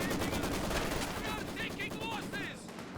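Maxim machine gun fire from a Soviet team weapon in Company of Heroes 2, a World War II strategy game, sounds as a dense, continuous rattle of rapid shots with other battle noise, while someone talks over the last half.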